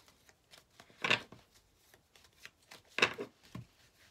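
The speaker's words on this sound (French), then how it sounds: "On va demander à l'oracle des amoureux une petite carte." An oracle deck of love-themed cards is shuffled in two close, soft riffling bursts, with faint card handling and light taps between them in a quiet room.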